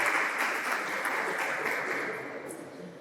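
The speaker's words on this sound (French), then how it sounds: "On les applaudit quand même." An audience at a school quiz semi-final in Odienné applauds for about three seconds. The clapping is soft and distant and fades slightly toward the end, with no talking.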